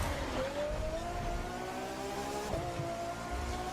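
A Ferrari LaFerrari engine in the racing game The Crew 2 roars as a loud, continuous drone, with the pitch climbing and then dropping at a couple of gear changes.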